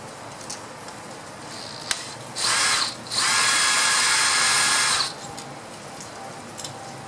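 Two bursts from a power drill backing out the coil pack bolts on a 2014 Chevrolet Cruze 1.4L engine: a short whir, then a longer steady run of about two seconds, close and loud over a quiet garage.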